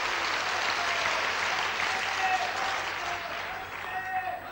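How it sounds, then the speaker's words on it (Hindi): A crowd at an outdoor Bharat Swabhiman rally in Rohtak, Haryana applauds, a broad, steady wash of many people clapping at a moderate distance, fading slightly toward the end. "तालियां उनके लिए एक बार"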